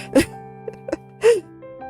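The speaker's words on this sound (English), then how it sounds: "Sneeze." A single quick sneeze, close and sharp, sits among faint breaths and a soft vocal sound, with a steady low hum underneath.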